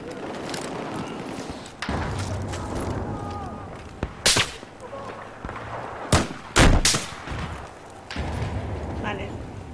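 Rockets fired in a military shooter game during an assault on the Golmud map: several sharp, loud blasts cut through steady battle rumble and distant gunfire, landing in clusters toward the middle of the stretch.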